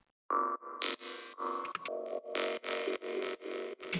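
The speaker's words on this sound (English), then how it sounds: "through this delay that makes this kind of sound" A bright synth in a hard techno track plays a run of sustained notes through wide ping-pong delay with heavy feedback and reverb, notes smearing into one another, each tail echoing and washing out wide before the next phrase starts.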